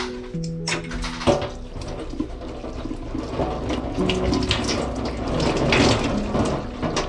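Tap water runs into a sink while a handkerchief is washed, a steady splashing stream with some handling noise, close and moderately loud with no talk.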